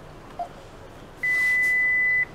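An ELVOX door station keypad gives a short soft blip, then a single long electronic beep, steady and clear, lasting about a second before stopping.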